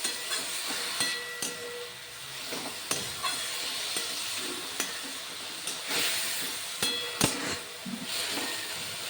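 Greens with a little turmeric are stirred in a frying pan, giving a steady sizzling hiss broken by repeated sharp scrapes and knocks of the spoon against the pan, with no talking.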